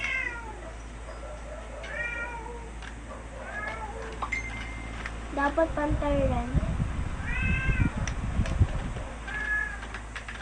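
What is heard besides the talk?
cat meowing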